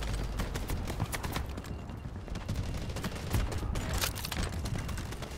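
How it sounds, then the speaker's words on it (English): Artillery barrage in the shooter game Delta Force Hawk Ops: a dense, rapid stream of overlapping blasts and cracks pounding without pause for several seconds, loud and close with no talking. "Artillery ready for barrage."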